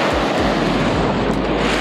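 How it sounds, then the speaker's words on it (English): Small ocean waves wash and break close by off San Diego's La Jolla coast during stand-up paddle boarding, a steady broadband surf roar with wind buffeting the microphone throughout. "A few more baby waves to make it over."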